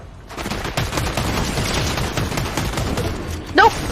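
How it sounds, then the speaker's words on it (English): Dense, rapid automatic shotgun blasts in a video game, loud repeated bangs fired in a sustained fusillade, with a sharp high-pitched effect near the end. "King, they have an auto shotgun there. I can't get through."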